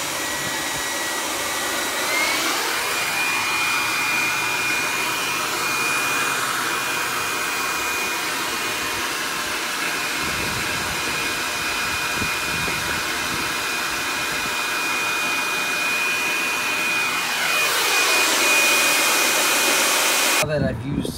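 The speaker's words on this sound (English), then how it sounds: "Power up with the air blower." An electric air blower spins up with a rising whine, holds a loud steady rushing drone for most of the time, then winds down near the end.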